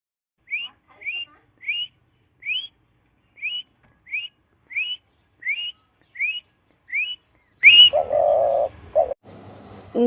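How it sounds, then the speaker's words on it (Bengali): A dove repeats a short rising whistled call about ten times at a steady pace, then a louder burst of mixed noise cuts in near the end. "ঘয়ে ঘুঘু পাখি ডাকছে গাছে"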